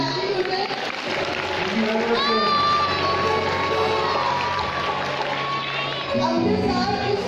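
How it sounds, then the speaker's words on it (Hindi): Audience at a stage show clapping and cheering for the host, a crowd roar with shouts and whistle-like tones over music, lasting the whole stretch and swelling near the end. "एक दफा इनके लिए ज़रा जोरदार ताली हो जाए।"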